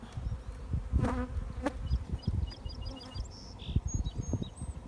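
Steady buzzing of many bees close by at an open hive, a dense continuous hum with scattered thumps and handling noises as a deep box is placed on top.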